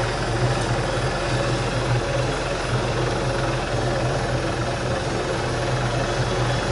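A helicopter flying in Arma 3, a steady, droning engine and rotor hum with a constant low throb, loud and continuous for the whole stretch, with no other voices or sounds.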